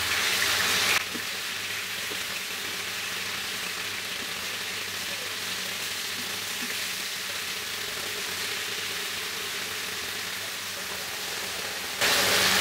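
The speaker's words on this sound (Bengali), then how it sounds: "হাই হিটে 2 মিনিটের মতো ভেজে আমি এগুলোকে উল্টায় আরেক পাশটাও 2 মিনিটের মতো ভেজে নিব।" Chicken kebab pieces for chicken barra sizzling in oil on high heat, a steady loud bright hiss holding constant for about eleven seconds without voices.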